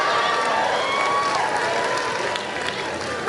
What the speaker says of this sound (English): And then look at each other and give yourselves a big round of applause.